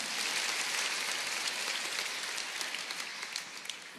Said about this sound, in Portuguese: Pode aplaudir a Jesus porque Ele merece.